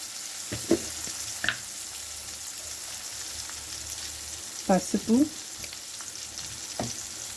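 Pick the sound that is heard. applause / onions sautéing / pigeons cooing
onions sautéing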